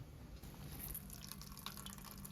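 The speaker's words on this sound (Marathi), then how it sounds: "किती पाणी येईल बघा" Water trickling out in a dense forest, a soft steady dribble with faint drips, quiet and close, without talk.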